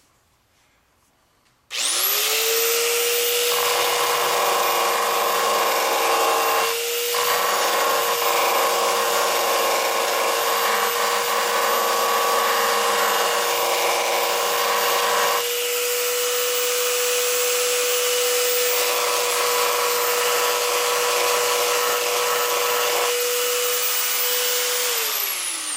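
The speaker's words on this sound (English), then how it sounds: "I gotta sand some of this off." Steady power sander running continuously on a metal plate of a 1976 Pontiac Trans Am door, a loud, close, sustained whine with slight shifts in load as it bears down, no speech.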